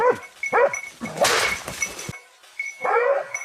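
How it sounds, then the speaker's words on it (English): Several quick, sharp hunting dog barks come in short bursts during a wild boar hunt, separated by brief pauses and a rustling, crashing noise in the middle. "With the effective cooperation of the hunting dogs, the rapid barking signaled that the target had been surrounded."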